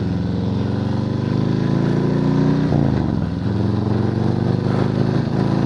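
A 2020 Harley-Davidson Softail Standard engine with upgraded exhaust and power tuner roars loud and close, its pitch rising and falling as the throttle is worked, with a brief dip midway.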